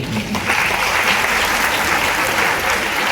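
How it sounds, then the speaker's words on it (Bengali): Loud, dense applause from an audience at a political gathering celebrating Women's Day, sustained clapping filling the room steadily from start to finish without a break. "আমি বলবো সবাইকে তার জন্য একটা জোরে হাততালি।"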